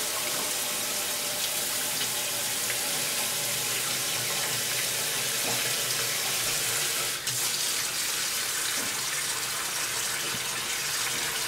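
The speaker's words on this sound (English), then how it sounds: "I'm putting hot water in my sink." Hot water runs steadily from a tap into a kitchen sink, a loud, even rushing gush that fills the whole stretch with no talk over it.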